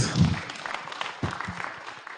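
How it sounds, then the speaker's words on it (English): Brief round of audience clapping at a live career day event, a short burst of hand claps rising and fading over a couple of seconds with some background murmur. "Another big hand clap to Betty."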